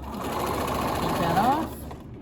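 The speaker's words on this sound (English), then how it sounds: "I always sew with my needle in a down position, so when I stop, it stops inside the fabric" A domestic sewing machine stitches pieces of fabric for a mini Christmas stocking bunting, its steady fast motor hum running close and loud for about a second and a half before stopping with the needle down, under a talking voice.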